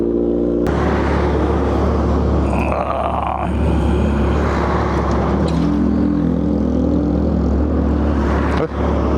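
A Kawasaki Z1000R motorcycle with twin mufflers idles as it warms up outdoors on a cold morning, a loud, steady, close engine rumble that starts abruptly and holds with small fluctuations.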